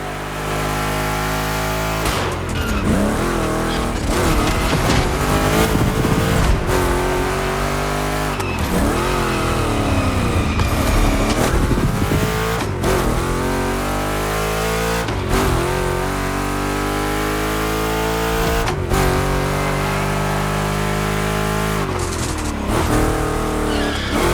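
Race cars in The Crew Motorfest roar continuously through a lap, engines revving and shifting with repeated tire squeals and skids, loud and close throughout.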